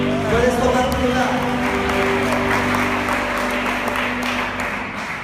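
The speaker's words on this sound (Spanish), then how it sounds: "Dale fuerte palmas a Dios." Church congregation clapping their hands to God during a service, a dense, loud wash of sustained applause mixed with voices and held music tones, slowly easing toward the end.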